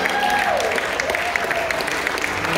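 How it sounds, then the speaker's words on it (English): Applause from a church congregation, a steady broad wash of clapping that holds at even strength throughout, with a faint tonal line drifting through it. "let's give him a round of applause"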